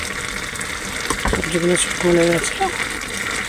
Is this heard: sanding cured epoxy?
no